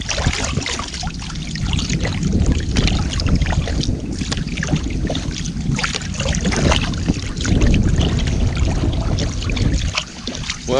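A canoe is paddled across a wilderness lake, with rhythmic dipping and water swishes beneath steady wind noise buffeting the microphone, continuous and close throughout.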